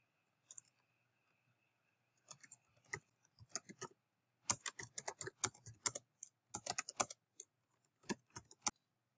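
Typing on a computer keyboard while writing R code, quiet close clicks in irregular bursts with short pauses between them.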